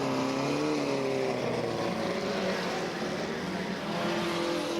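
Banger racing cars roar around a track at a 1978–1985 meeting in Ipswich, with several engines loud and continuous and rising and falling in pitch as they rev and pass.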